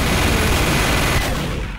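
Rapid, dense gunfire in Team Fortress 2, a steady loud barrage that runs unbroken for nearly two seconds and tails off slightly at the end, with no talk.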